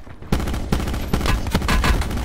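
Rapid bursts of gunfire in Call of Duty Black Ops 4 Blackout, several loud shots cracking close by in quick succession over the whole stretch, with no talking.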